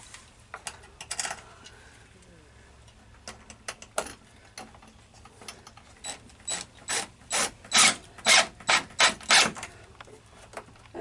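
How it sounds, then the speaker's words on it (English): A ratcheting screwdriver drives a screw into a light fixture: sparse clicks at first, then a close run of loud, rhythmic ratchet turns toward the end. "I got one more screw to put in it"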